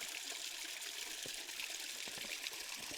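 Small mountain creek trickling steadily nearby on a hiking trail, a continuous watery rush with faint splashes, no voices.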